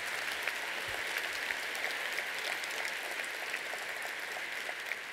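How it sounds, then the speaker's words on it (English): Applause at an awards luncheon for human resources professionals: a room of guests clapping steadily and evenly throughout, fairly soft and distant, with no voices over it. "Could we have another round of applause and congratulations?"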